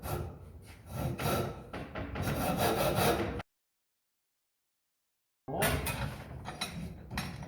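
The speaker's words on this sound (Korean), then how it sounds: "90도로 세워놓고 톱질을 하세요." Timber for a roof frame being cut by hand with a saw, set upright at 90 degrees, in carpentry licence practice; steady close rasping strokes for about three seconds, a silent gap, then sawing resumes.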